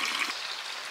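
Water runs steadily into a container at a roadside water source in Okazaki, Japan, a continuous close, even hiss and trickle lasting the whole moment with no voices.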